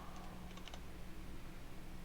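Quick, light keystrokes on a computer keyboard while an admin command is entered in the game SCUM, a short cluster of taps over a steady background hum.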